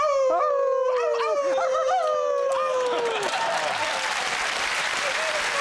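Several voices imitate wolf howls on a TV panel show, long wavering rising and falling cries overlapping, then fading into loud applause and cheering from a studio audience.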